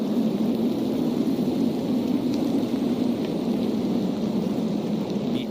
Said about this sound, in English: Something happened, a storm started out of nowhere.